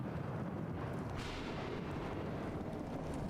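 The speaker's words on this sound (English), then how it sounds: "We summoned the lightning." A rumbling roll of thunder from summoned lightning in the video game Bendy and the Revival, a loud broadband rumble that swells sharply partway through and lingers without speech.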